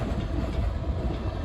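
A westbound Norfolk Southern freight train rumbles past on the Pittsburgh Line near Rockville Bridge, a loud, steady low roar of rolling wagons close at hand.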